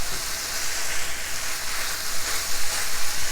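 Chicken and asparagus stir fry sizzles steadily in a hot pan, a constant bright frying hiss that stays close and even with no voices.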